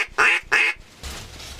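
Duck quacking during a duck hunt: two loud, close quacks in quick succession, followed by a lower rumbling background with no voices.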